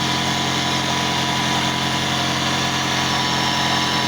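A V8 car engine idles with a steady, throbbing low rumble and constant vibration, close and loud with no talking.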